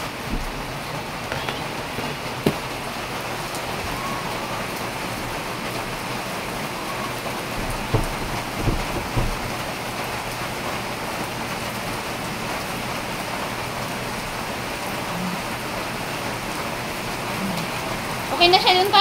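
Heavy rain pours steadily on a surface, a dense constant hiss that fills the whole stretch, with faint voices and a few soft knocks under it.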